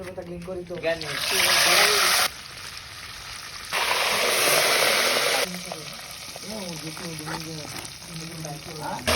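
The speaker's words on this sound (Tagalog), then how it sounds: "Pagkainit sa mantika ay lunod din nato ang permiro nato nga manok." Loud, steady sizzling of chicken frying in hot oil, surging in bursts, with a person talking over it at intervals.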